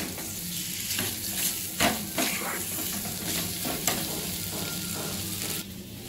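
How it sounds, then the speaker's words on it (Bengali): Potatoes stirred and fried with onion and garlic in a wok, a steady close sizzle with scraping stir strokes and a few clinks of the spatula throughout. "আলুটাকে আমি একটু কড়ায় পেঁয়াজ রসুনের সঙ্গে নেড়ে নিচ্ছি"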